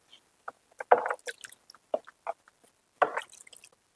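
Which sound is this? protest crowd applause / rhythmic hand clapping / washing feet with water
washing feet with water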